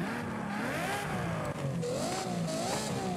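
A Ferrari engine fitted with a race exhaust revs hard in the video game Forza Horizon 5, its loud pitch climbing and falling through several close, continuous throttle blips with no talking.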